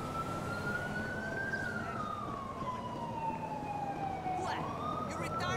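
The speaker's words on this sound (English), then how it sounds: "I can hear the siren, so we'll be able to kind of find our way back" Police car siren in LSPDFR, a single wailing tone gliding slowly up and down, continuous and fairly close over low background rumble, with a brief voice near the end.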